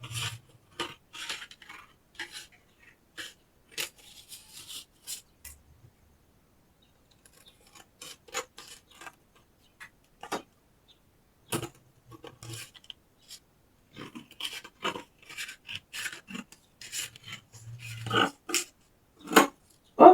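Scissors snip through fabric while skirt pieces are cut out, giving quiet, irregular crisp cuts and rustles in short bursts with brief pauses, close by.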